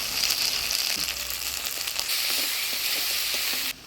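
Ground spice paste of coriander, cumin, ginger and dried chilli fries in a pan with tomato, a steady close sizzle with faint stirring clicks that cuts off abruptly near the end.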